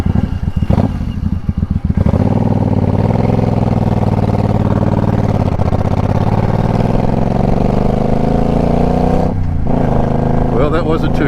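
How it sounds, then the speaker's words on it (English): Motorcycle engine sputtering, then restarted and settling into a loud, steady idle with a throbbing pulse close by, with someone talking over it. "I killed the motor and then got it started again"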